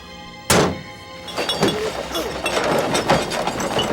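A door opened and closed repeatedly: a hard, loud thunk of wood striking the frame, followed by several duller knocks and rattles in an echoing room, with no voices.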